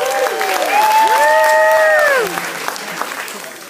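A theater concert audience at the Palace Theater bursts into loud, close applause for the bass player, with cheers and whistles over the clapping, which then tapers off.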